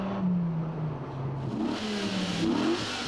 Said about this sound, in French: le bruit du V10, 500 chevaux, 8 litres 3